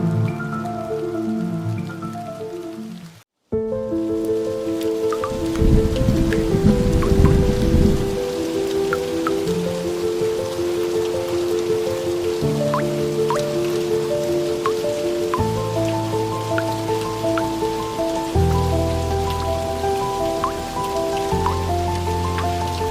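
Heavy rain pours down steadily through a storm, a dense constant wash of falling water with a sudden brief drop-out early on and a faint thunder rumble, all heard alone without voices.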